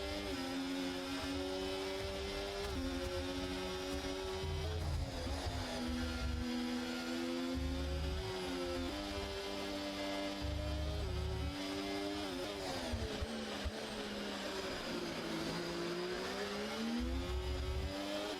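Race cars scream past continuously at high revs during a race in Qatar, engine tones rising and falling through gear changes as drivers fight to overtake, loud and unbroken with no voices.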